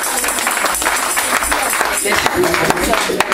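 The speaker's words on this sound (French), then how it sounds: "Dès qu'elle passe, on applaudit pour la gloire du Seigneur." Applause from a church congregation at a Sunday school Christmas service, a dense, steady wash of clapping that fills the room throughout, with voices mixed in beneath it.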